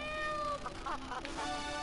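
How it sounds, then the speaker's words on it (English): In the video game GTA III, a cat stuck up a tree gives a couple of clear, drawn-out meows close by, rising and falling against a steady game tone and background hum. "Rescue a cat out of that tree with your banana cannon, Pogo."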